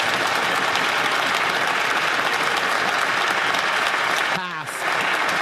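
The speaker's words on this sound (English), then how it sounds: "Not even half of the Liberals stand up and clap" Members clap during Question Period in the Canadian House of Commons, a thick, steady roar of applause that runs throughout, briefly broken near the end by a short voice and a dip in the clapping.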